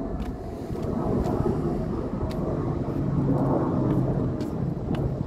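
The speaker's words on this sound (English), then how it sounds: "Dito po ang daanan ng mga eroplano." Broad steady rumble of an airplane passing overhead along a flight path near a senior home, heard outdoors while walking on a street, continuous and fairly loud with no talk.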